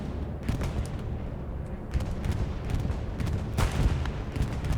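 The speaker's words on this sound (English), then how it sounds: "Nice bombing run here from Dippy Draws, the 82 AD commander." A bombing run in the video game Hell Let Loose, with continuous dense rumbling and repeated booming impacts that swell and recede, heavy and close, with no talk over them.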